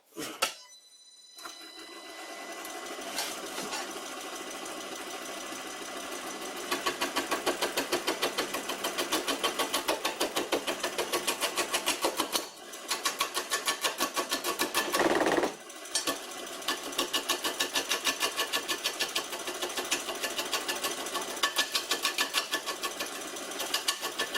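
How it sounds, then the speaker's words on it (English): Vintage bench lathe running steadily while a chisel is sharpened on it, a loud continuous mechanical whir with rapid rhythmic chatter that drops out briefly twice before resuming. "I'm going to try sharpening the chisel"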